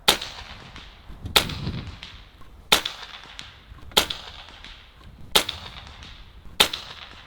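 Six sharp cracks from a Barra 250z air rifle firing pellets at a target about 100 yards away outdoors, spaced roughly a second or so apart, each a crisp loud report with quiet gaps between.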